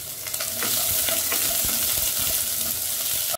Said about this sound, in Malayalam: കറിവേപ്പില ഒന്ന് മൂത്ത് വരുമ്പോൾ നമുക്ക് മുറിച്ച് വെച്ചിട്ടുള്ള സവാളയും പച്ചമുളകും കൂടി ഇടാം. ജസ്റ്റ് ഒന്ന് വഴറ്റിക്കൊടുക്കാം.